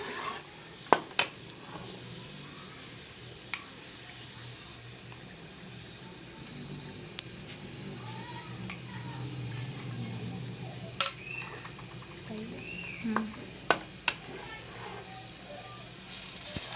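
A spoon stirs soaked semolina through browned sugar syrup for makhandi halwa, giving a low continuous scraping and bubbling with scattered sharp clinks against the pot; no one speaks.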